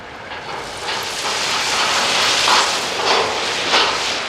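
A MAN TGS tipper truck tipping its load with the auxiliary power take-off engaged, giving a steady broadband rushing and rumbling wash that swells slightly midway, with no talk over it.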